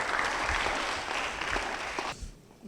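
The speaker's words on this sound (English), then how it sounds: "Parliament Cham, a round of applause." An audience at a poetry slam quarter final gives a poet a round of applause, a loud wash of clapping that fades out abruptly near the end.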